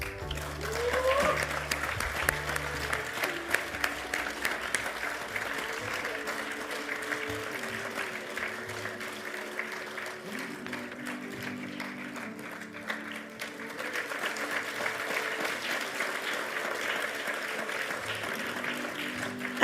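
Steady applause from an awards ceremony audience, sustained clapping throughout with music playing underneath and some voices mixed in.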